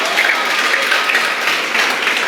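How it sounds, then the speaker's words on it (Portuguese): A church congregation at a Sunday evening service breaks into loud, dense applause, a continuous wash of many clapping hands that stays even for the whole stretch. "Aplauda ao Senhor aí."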